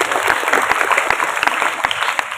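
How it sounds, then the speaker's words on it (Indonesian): Students clapping together during a visit by the city's mayor to a high school, dense and loud applause held steady from a nearby crowd without voices. "Oke, tepuk tangan."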